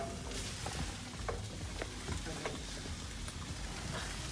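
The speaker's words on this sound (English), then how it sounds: "So I'm just going to fry the onions after that." Onions fry in a pan for a one-pan potato bake, a soft steady sizzle with scattered small pops and stirring scrapes, fairly quiet and without speech.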